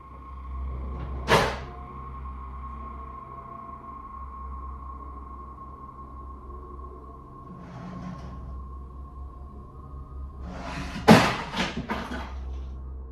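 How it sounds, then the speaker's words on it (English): Kitchen drawers sliding open and objects knocked over, heard as two sharp clattering bangs several seconds apart with a softer rustle between, over a steady electrical hum in an otherwise quiet room. "The activity continues with another drawer opening and more."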